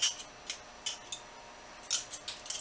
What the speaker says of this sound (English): This is what a butter knife is for.